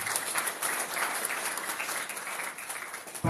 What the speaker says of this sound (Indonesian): Tepuk tangan untuk seluruh calon peserta.